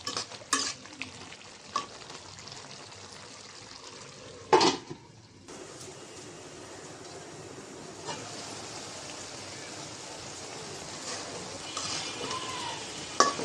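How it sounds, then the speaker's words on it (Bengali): Stems and potatoes for a Malabar spinach curry fry in a pan with a soft sizzle, broken by clanking strokes of a spatula against the pan, quieter in the middle and building later. "ডাঁটাটা একটু নাড়াচাড়া দিয়ে দিই"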